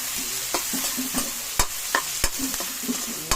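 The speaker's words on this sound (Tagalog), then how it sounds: "Mix natin yung chili green." A green chili is stirred into a frying pan of sizzling corned beef, with a steady crackling fry and intermittent scraping taps of the utensil against the pan, close and clear with no talking.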